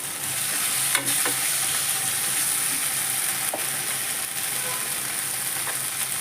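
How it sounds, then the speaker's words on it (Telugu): Onion paste and tomato pieces fry in a pan for crab curry, making a steady, close sizzle with occasional scraping stirs of a utensil against the pan and no voices. "ఉల్లిపాయ పేస్ట్ ఇలా ఫ్రై అయిపోవాలండి"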